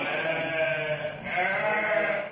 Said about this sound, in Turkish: Annelerini emdikten sonra karnı doyan kuzular ahırlarda neşeyle oynaşıyor.